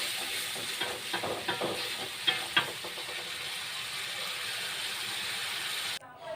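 Sambal goreng chili paste sizzles steadily in a pan, a constant hiss broken by scattered crackles and a few sharper stirring scrapes, with a brief break near the end.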